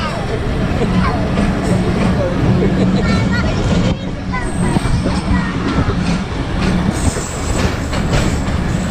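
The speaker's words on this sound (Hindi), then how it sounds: "ये मुल्तान थाल एक्सप्रेस देखा बेटा?" The Thal Express passenger train running from Rawalpindi to Multan: loud, continuous rolling rumble with clattering wheels and faint squeals, voices talking nearby.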